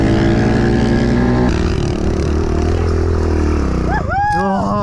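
A motorcycle engine runs loud and close, holding a steady throttle before its pitch drops and then rises again near the end.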